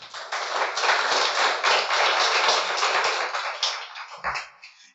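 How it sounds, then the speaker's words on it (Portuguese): Church congregation applauding together at a New Year service, a dense sustained wash of many hands clapping that fades out near the end, with a few scattered claps trailing off. "Você pode aplaudir a Jesus?"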